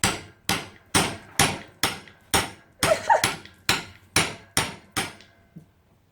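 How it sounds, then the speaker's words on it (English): A hammer drives a chisel through a CV joint band with about eleven sharp metallic blows in a steady rhythm. The strikes are loud and close, with no talking over them. "you can actually just hammer it, and it'll just cut straight through"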